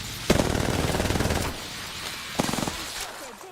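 Rapid automatic gunfire from hip-fire shooting with a controller in a video game, a long burst followed after a pause by a shorter second burst, loud and close.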